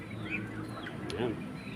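Chicks and chickens cluck and peep nearby in a brief burst of soft calls, with a human voice speaking over them.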